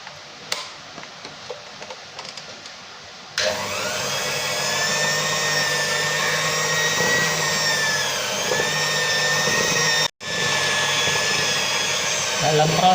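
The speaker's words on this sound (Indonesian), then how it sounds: "pencampuran ini dengan menggunakan mixer, jangan pernah menggunakan kecepatan tinggi, karena nanti akan mengalami overmix." Electric hand mixer beating martabak manis (terang bulan) batter at moderate speed, starting after a few quiet seconds as a steady, loud whirring drone with a slight wavering pitch, briefly cutting out near the end before resuming.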